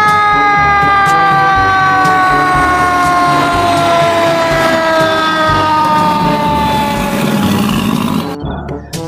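Toy fire truck siren wailing loudly and close, a steady electronic tone with sliding pitch, running almost the whole time before cutting off near the end.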